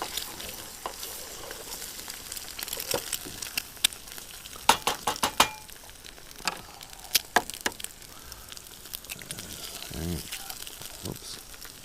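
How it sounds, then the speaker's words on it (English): Butter sizzling and eggs being scrambled in a pan on a camping stove: a soft continuous fry with scattered sharp clicks and scrapes of stirring, close and moderately loud, no talk over it. "Trying to hurry up so I don't burn the butter. You're gonna have to scramble these right away."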